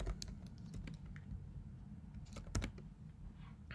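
Fast typing on a computer keyboard while writing HTML tags in Dreamweaver, a steady run of close, quiet key clicks with a couple of louder strokes, no talking.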